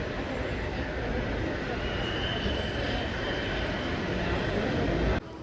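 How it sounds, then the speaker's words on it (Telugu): Loud, steady roar of an airplane taking off at Bangalore airport, a broad continuous rumble that holds nearly unchanged for about five seconds before cutting off abruptly. "ఫ్లైట్ టేక్ ఆఫ్ అవుతుందండి"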